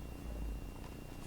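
A cat purrs in the Minecraft video game, a low steady rumble running through the whole short moment at a quiet level, with no talk over it.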